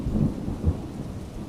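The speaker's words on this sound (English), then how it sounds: "The thunder suddenly intensified, unleashing a cataclysmic roar," Thunder rumbles low and continuous through a rainstorm, with a soft steady wash of rain and a couple of slightly louder rolls early on, moderately close and with no one speaking.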